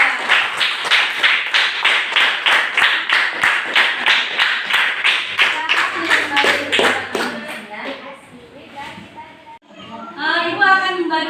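Pupils in a school classroom clap for a group in a fast, rhythmic unison beat that repeats about twice per second, then break into scattered claps and children's chatter.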